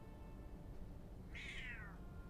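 A domestic cat gives a single clear meow that falls in pitch partway through, over a steady low background hum. No speech is heard.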